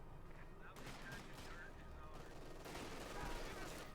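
Sustained gunfire from an MG42 machine gun in the World War II strategy game Company of Heroes 2, dense bursts of shots running continuously under game ambience and faint battle noise.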